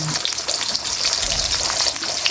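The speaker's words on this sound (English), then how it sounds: "Fry it until golden brown." Pork pieces shallow frying in oil for a traditional African dish, a steady close crackling sizzle with fine spitting pops throughout.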